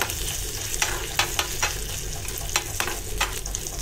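Sliced coconut being stirred into a hot tempering pan for tapioca sweet kuzhi paniyaram, with a steady soft sizzle and several sharp scraping clicks of the spoon against the pan, no talking.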